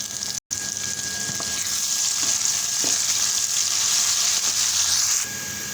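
Ginger, garlic and green chili paste hits hot onions already browning in a pan, and a loud, steady sizzle swells and holds, with a brief dropout near the start and light stirring scrapes.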